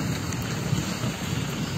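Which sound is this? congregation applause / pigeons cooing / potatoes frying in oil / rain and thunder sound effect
rain and thunder sound effect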